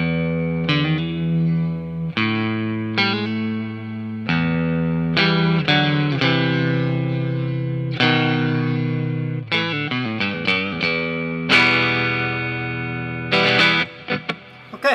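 A Fender Mod Shop Telecaster with a channel-bound neck and Nocaster pickups, played through an amp: ringing chords and single notes with distortion and a chorus-like shimmer, some chords left to sustain between strums.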